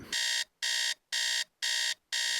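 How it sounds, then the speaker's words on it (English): An electronic alarm clock beeps in a regular on-off pattern, five loud tonal bursts separated by short silences, with nothing else heard. "On weekdays, I set an alarm for 7 a.m."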